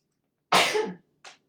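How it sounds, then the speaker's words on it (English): A single sharp, loud sneeze bursts out of silence, followed by a short, softer breathy sound. "I think I'm gonna sneeze"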